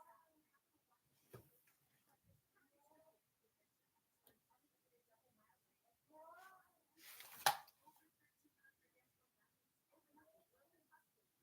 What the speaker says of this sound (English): I hear a cat outside